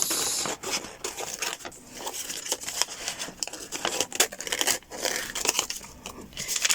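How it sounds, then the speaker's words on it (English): Craft paper being fussy-cut by hand with scissors during a crafting session, giving close, steady crinkling and snipping with irregular bursts and brief pauses, no talking. "just doing a little bit of fussy cutting here, nothing special going on"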